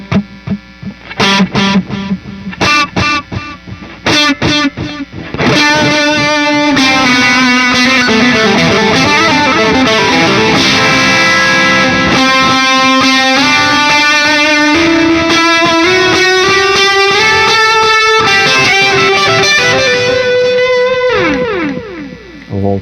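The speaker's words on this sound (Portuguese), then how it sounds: "Eu vou botar mais alto a distorção, o mix aqui para vocês verem como é que fica só o som distorcido" Electric guitar through a Gojira amp plugin with heavy distortion and delay: loud picked notes, then a long sustained, wavering lead line over a thick, echoing wash that fades near the end.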